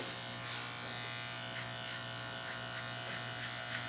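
Electric hair clipper, tipped onto its corner, buzzing steadily at close range while cutting a low fade taper on dirty blonde hair, with no talking.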